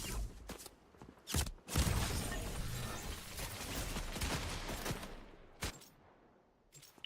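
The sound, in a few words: gunfire in the video game Fortnite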